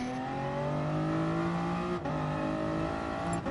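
Nissan NV500 van engine in Gran Turismo Sport drones steadily with a rising rev, loud and close, dipping briefly twice as if on gear changes, with no talk over it.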